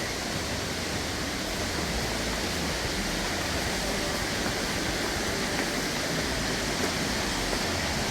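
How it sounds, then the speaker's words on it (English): Enloe Creek in the Smoky Mountains rushes past like a small river, a constant, even roar of fast water that never lets up, heard up close with no voices over it. "Not really sure why they call it a creek. It's more like a dang river."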